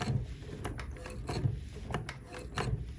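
Handwheel of a sewing machine turned by hand for a reverse stitch while sewing a fabric tool roll, a few soft clunks and mechanical knocks at an uneven pace, close and fairly loud.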